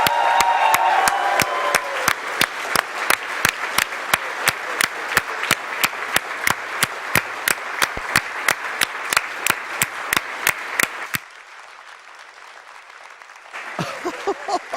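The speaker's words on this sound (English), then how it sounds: "Give these guys a round of applause." Sustained, loud audience applause at a live speedrun charity marathon after a blindfolded Mike Tyson's Punch-Out!! race, dense steady clapping for about eleven seconds before dropping away, with a brief burst of crowd noise near the end.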